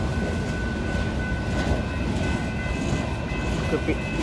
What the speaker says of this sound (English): This will be the final train in Oakland